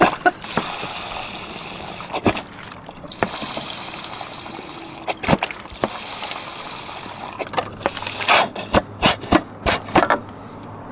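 Burnett's vodka glugging and trickling from a squeezed plastic bottle into another bottle, with uneven gushes and dribbles, a burst of rapid glugs near the end, and plastic crinkles and knocks in between, close and without talk.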